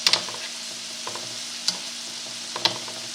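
Scallops searing in butter and oil in a hot pan, a soft continuous sizzle broken by a few sharp clinks and scrapes of a utensil.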